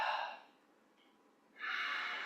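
Soft breathing while holding a yoga back bend: a quiet breath, a pause of near silence, then a fuller breath, close and gentle with no talk.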